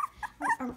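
A small puppy gives a quick run of high, yappy barks and whimpering yips up close, several short bursts packed into under a second.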